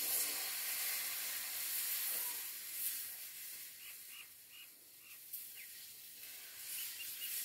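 Dhirde batter made from stone-ground bhagar sizzles steadily in an oiled pan, a continuous soft hiss that stays even throughout with no talking.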